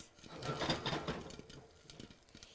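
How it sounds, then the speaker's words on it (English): Rapid, irregular crackling pops fill the clip, dense and busy, like kernels bursting inside a covered pot, fairly close. "you can hear it really starting to pop now"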